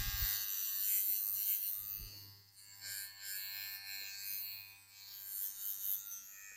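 An electric shaver trimming a moustache, buzzing close up in a steady high whine that rises and dips in loudness as it moves over the hair, with no one talking.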